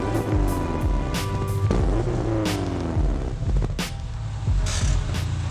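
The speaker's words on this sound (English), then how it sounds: "The biggest performance upgrade I've done to this is the exhaust, so I say let's start her up and hit the road." A car with an upgraded aftermarket exhaust starts and pulls away, its loud engine rumbling and revving in repeated surges with shifting pitch, close and prominent, without speech.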